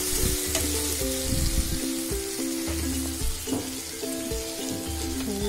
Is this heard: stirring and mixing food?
yes